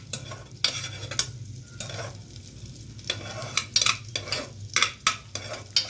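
Garlic frying in melted butter over a medium flame, stirred with a utensil: a steady soft sizzle with repeated sharp scraping and clinking strokes against the pan, close and fairly quiet, no talking.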